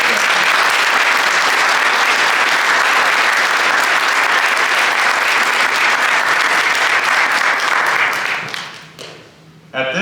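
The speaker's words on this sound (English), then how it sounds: "Please join us in a round of applause for all of today's guests." Applause from the crowd at an Army 25U graduation ceremony, loud and sustained for about eight seconds before tapering off as the clapping dies away.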